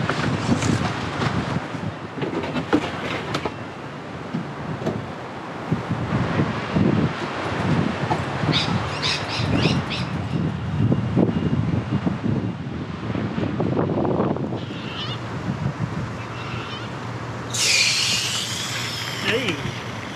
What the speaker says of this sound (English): Oh, it's got real windy now.